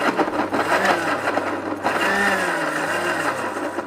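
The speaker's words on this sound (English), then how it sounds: "And then pulse this all together until it's pureed." A blender pulses sugar and milk into a puree, a steady loud motor whir with slight shifts in pitch running throughout without pause.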